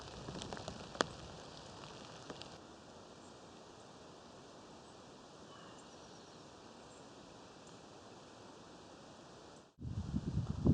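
Steady rain falling outdoors onto a plastic bag covering a camera in a field, producing a soft, even hiss of patter with occasional sharper drops, then a louder rustling burst near the end.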